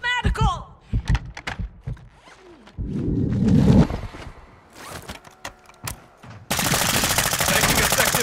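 Battlefield sounds from Call of Duty: Modern Warfare II mix scattered thuds and short shots with voices speaking, ending in a sustained, dense burst of close machine gun fire.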